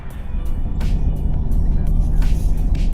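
A truck driving along a road, heard from inside the cab as a steady, loud low engine rumble and road noise with faint occasional higher hiss.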